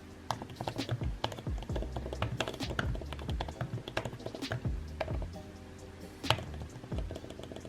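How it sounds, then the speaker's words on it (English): Steady typing on a soft, quiet iPad keyboard nearby, rapid irregular taps in a continuous stream with occasional slightly louder keystrokes. "enjoy this clip of me typing"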